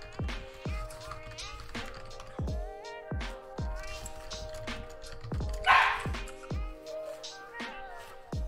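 A new puppy barks and yips again and again in short, sharp bursts over a steady tonal hum in a room, with occasional faint voices in the background.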